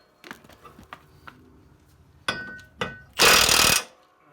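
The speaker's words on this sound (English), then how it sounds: "Make sure it's on the spline and tighten her up." The mower blade on a John Deere D140 lawn tractor is tightened onto its spline, heard as scattered light clicks and taps, then two short mechanical bursts and a loud, sustained rattle near the end.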